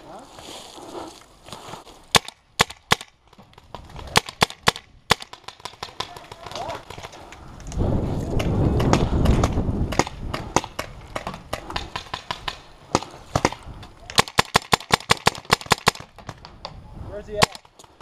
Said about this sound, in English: the players on the hill were shooting volleys of paint at us